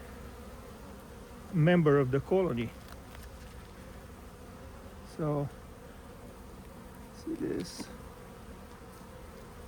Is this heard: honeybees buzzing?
yes